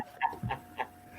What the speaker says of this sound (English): that's my dog, man.